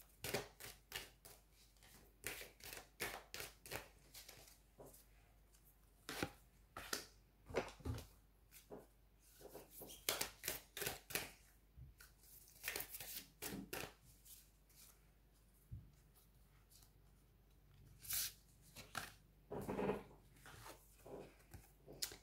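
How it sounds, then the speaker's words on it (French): Oracle cards are shuffled and drawn from a deck, with a quiet run of crisp riffles, flicks and slaps coming in irregular bursts over about twenty seconds. Nobody speaks. "on va aller prendre une carte du Queen of the Moon et une carte du Lunologie pour venir terminer le tirage"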